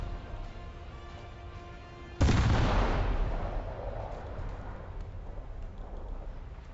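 A naval ship's guns fire during a War Thunder battle: one huge, sudden boom at about two seconds over a steady engine hum, followed by a long rumbling decay that slowly fades.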